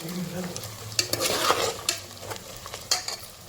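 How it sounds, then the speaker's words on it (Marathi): Chopped onion with cumin seeds sautéing in a pressure cooker, a steady sizzle broken by repeated scraping strokes of a spoon stirring against the metal pot, close and alone. "त्याला व्यवस्थित आपण परतून घेऊया कांदा व्यवस्थित परतून झाला"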